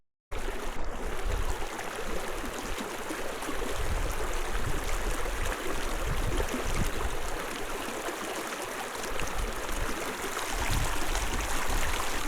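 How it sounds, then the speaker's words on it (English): A waterfall pours into a mountain lake beside a high Sierra trail, heard as a loud, steady broadband rush of falling water that holds constant the whole time with no voices. "Waterfall feeding the lake."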